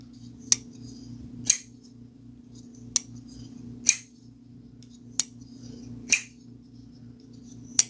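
A folding knife blade snaps shut again and again, giving seven sharp metallic clicks at uneven intervals over a low background hum, with no talking.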